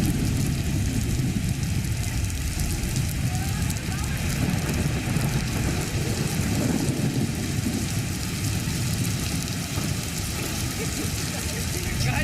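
Heavy rain pours down steadily during monsoon flooding, a dense, unbroken roar of falling water that holds at an even loudness throughout, with no voices.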